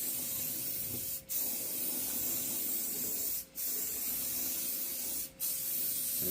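A spray gun lays filler primer on a 1997 Mustang GT body panel in steady hissing bursts, with three brief pauses between passes, close and loud with no talking.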